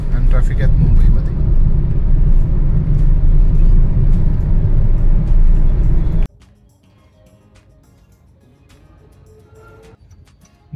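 Early morning road traffic in Mumbai, a loud, close rumble of vehicles for about six seconds before the sound cuts abruptly to near quiet with faint background noise.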